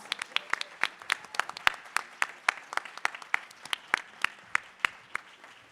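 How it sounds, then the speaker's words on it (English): A conference audience at the Michigan Climate Summit claps together in a steady burst of applause, many hands with sharp, evenly spaced peaks, no voices. "Can we just start off by giving a quick round of applause to Denise"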